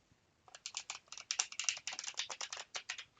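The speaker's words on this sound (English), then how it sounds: "so it riffles like a dream, it shuffles like a dream" Rapid fluttering clicks of playing cards being riffle shuffled close by, several quick bursts in a row with no talking.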